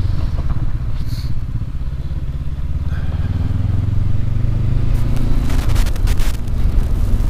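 A 2019 Honda CB500X motorcycle rides a dirt road in Oregon, its parallel-twin engine droning loud and steady close up as the revs rise, with gravel clatter and wind buffeting.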